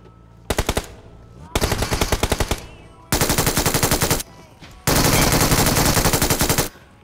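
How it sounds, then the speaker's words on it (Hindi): UMP submachine gun fire in PUBG Mobile: four rapid automatic bursts, each longer than the last, loud and close, separated by brief pauses. "सारी UMP की गोलियां जो है मेरे वेस्ट और मेरे हेलमेट पे पड़ी थी"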